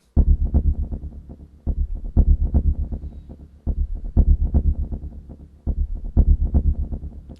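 A deep, pulsing tempo-synced synth bass from UVI Quadra World Traveler plays alone, repeating a rhythmic pattern of quick low notes that swell and fade in steady bars.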